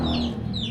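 A chicken clucks nearby outdoors at Bataraza, with a few short, loud clucking calls in quick succession.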